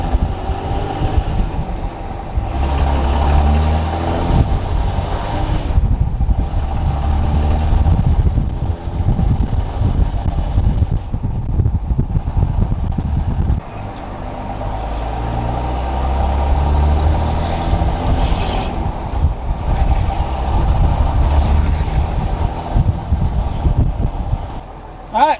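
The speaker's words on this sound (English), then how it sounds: "the sound of a Cummins is iconic" A Cummins diesel pickup engine runs and pulls through the gears with a loud, steady roar for the whole stretch. Heavy wind buffeting and road rumble mix in, with occasional voices under the engine.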